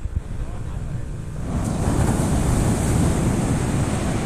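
Ocean surf rolls in at Pantai Senok beach after recent stormy weather, a steady broadband wash that swells louder about halfway through, with wind buffeting the microphone.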